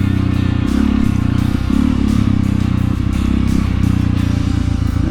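Rumbling engine of a 2021 Honda CRF 300L motorcycle being ridden at road speed, steady low drone with gear-shift dips and wind buffeting throughout, loud and close.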